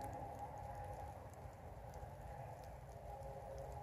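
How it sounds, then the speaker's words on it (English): Light rain just beginning to fall outdoors, a faint, steady patter of scattered drops over a low background hum. "Kind of starting to spit a little bit of rain."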